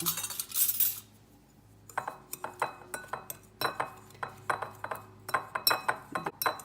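A utensil clinks steadily against a bowl while stevia is mixed into a keto seafood boil sauce. A short hiss comes first, then close, rhythmic metallic taps and scrapes.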